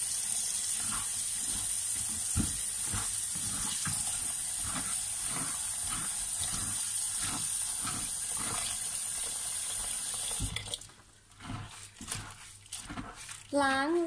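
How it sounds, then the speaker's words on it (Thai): Running water splashes as wild green onions are rinsed in a kitchen, a steady hiss with repeated sloshing bursts that fade, and a voice speaking briefly near the end. "เอามาล้างน้ำนะคะ โอ้ยน้ำกระเด็น"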